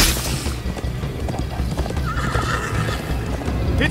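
Horse galloping and neighing in the Minecraft Story Mode video game: loud whinnies over a steady rapid clip-clop of hooves, close and continuous, with a game soundtrack underneath.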